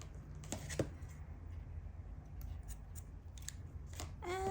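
Scissors snipping crochet yarn for a small beginner keychain, with a couple of quiet, close cuts early on and a final metallic blade scrape at the end, over faint background hush.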